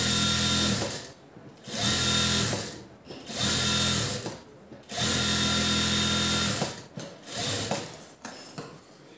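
Sewing machine stitching a bahi design along a border: loud close motor whirring in five bursts of one to two seconds each, with brief pauses between runs.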